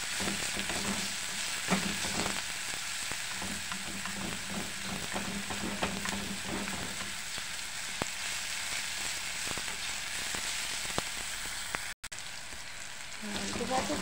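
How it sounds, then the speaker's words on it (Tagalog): Small chopped tomatoes fry in hot cooking oil over charcoal, a continuous close crackling sizzle with scattered pops and occasional stirring scrapes, steady throughout with one brief dropout near the end. "Kahit ano pang tigas ng kamatis, maluluto yan sa init ng mantika at syempre sa baga."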